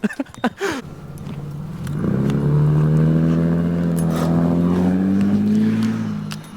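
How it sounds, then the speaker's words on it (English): A car speeds past near a park, its engine note rising from a roar into a loud sustained drone that holds steady, after a few sharp knocks at the start, with no talking. "every car is like speeding over there"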